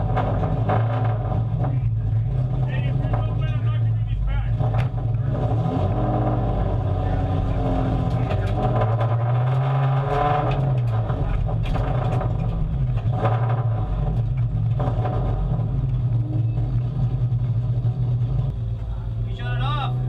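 Idling time attack race car engine at a Shannonville track event, a steady loud low rumble throughout with slight swells, while people talk nearby.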